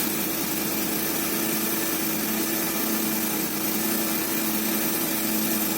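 A car engine idles steadily at its first start after a rear main seal replacement, a continuous close hum with a buzzing high edge and no break over the whole span.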